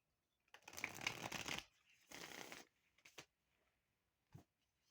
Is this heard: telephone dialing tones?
no